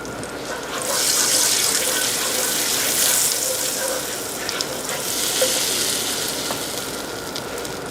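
Butter and a little oil sizzle steadily in a large sauté pan, giving a continuous hissing crackle that swells and eases slightly, with no talking over it.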